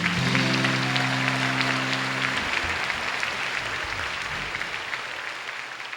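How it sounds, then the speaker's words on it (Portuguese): Congregation applauding at the close of a Catholic hymn, a sustained wash of clapping that starts over the final held musical notes and carries on, gradually softening, after the music stops. "Podemos aplaudir."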